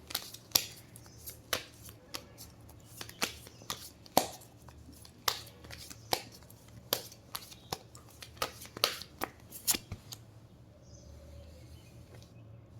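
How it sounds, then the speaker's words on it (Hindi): A deck of tarot cards is shuffled and handled. Crisp riffles and slaps come in quick, irregular bursts at close range, and the sounds stop near the end. "I will just pull out some cards"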